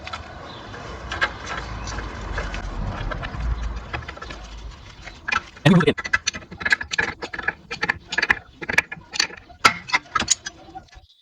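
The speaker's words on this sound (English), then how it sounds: "We take a puller like this for removing the pins." A puller works pins out of a CV joint on a Chevrolet, giving close metallic clicks and taps that turn into a quick run of sharp ratcheting knocks in the second half.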